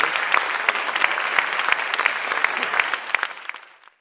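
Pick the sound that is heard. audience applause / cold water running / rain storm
audience applause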